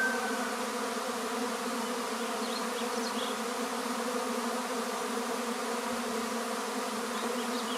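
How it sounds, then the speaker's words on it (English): A dense, continuous buzz of a honey bee swarm in May fills the air, steady and loud throughout, with individual bees occasionally zipping past. "There's a lot of bees."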